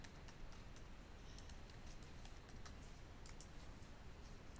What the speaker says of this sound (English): So I'm going to type the password for the admin.